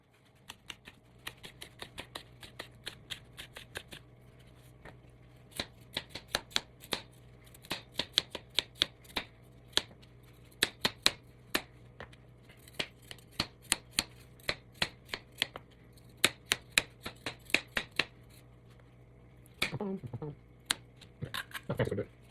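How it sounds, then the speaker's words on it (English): A knife chops ingredients for fried rice on a board, with sharp, close taps coming in irregular bursts of quick strokes and pauses, fairly quiet, with a brief low rustle near the end. "we'll start chopping"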